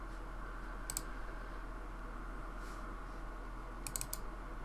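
A computer mouse double-clicks in two brief bursts of quick, crisp clicks about three seconds apart, close and fairly faint over a steady electrical hum, while configuring a SCADAPack 575 counter input.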